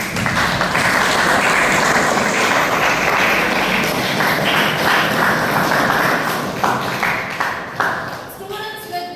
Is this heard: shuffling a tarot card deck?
no